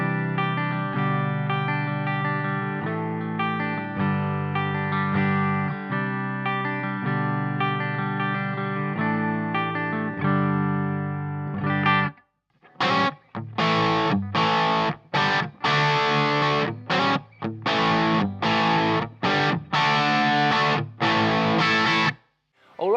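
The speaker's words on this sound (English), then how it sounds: "So we're going to start off with the bridge humbucker," Electric guitar on the bridge humbucker with an EGP HFT pickup engaged in an S-type, played through distortion and effects: sustained chords ring for about twelve seconds, then gives way to a run of choppy, rhythmic stabs, loud and close, with no talking.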